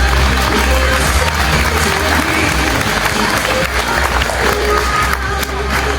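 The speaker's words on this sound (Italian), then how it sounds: "sento l'applauso, lo vorrei più forte." Loud, steady applause from a crowd at a fashion show fills the whole stretch, dense clapping with some cheering mixed in.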